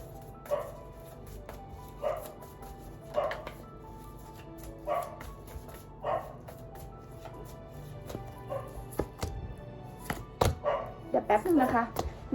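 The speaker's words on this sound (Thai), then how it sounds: "างบุมแบมมันเห่า" A stray dog barks in short separate bursts at fairly regular intervals, moderately close, followed by a quicker cluster of barks and yelps toward the end, with other household noise underneath.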